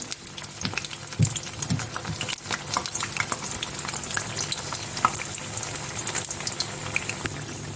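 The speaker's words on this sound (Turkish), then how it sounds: "Patlıcanlarımı kızdırmış olduğum yağ içerisine alıyorum ve arkalı önlü güzelce kızartıyorum." Eggplant sizzles and crackles steadily as it fries in hot oil, with scattered pops and a few soft clinks of stirring, no talking.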